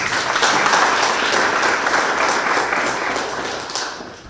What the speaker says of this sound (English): Can I maybe request all of us to give him a round of applause?